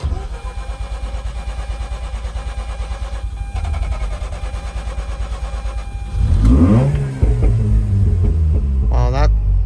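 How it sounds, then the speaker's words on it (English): A 2004 Mazda RX8 that had sat unused for two years runs at a steady idle hum, then is cranked and restarted, catching with a rough burst and rising revs, loud and close throughout. "I'm gonna go ahead and shut this car off. Let's see if it starts up again."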